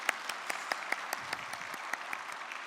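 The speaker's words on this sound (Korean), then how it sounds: "우리 청년들을 위해서 한번 크게 축복의 박수를 보내도록 하겠습니다" A church congregation claps together in a sustained round of applause during a worship service, a dense steady patter with a few sharper claps standing out, no voices on top.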